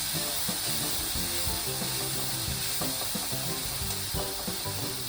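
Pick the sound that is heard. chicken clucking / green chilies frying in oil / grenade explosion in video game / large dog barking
green chilies frying in oil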